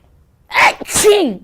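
One loud, close sneeze with a sharp intake of breath and then an explosive burst, cut off quickly in an otherwise quiet room.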